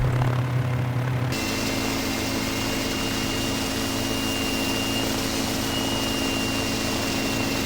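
Steady, loud engine drone with a constant whine fills the whole stretch, a continuous mechanical roar of a Mini 500 small helicopter flying close by.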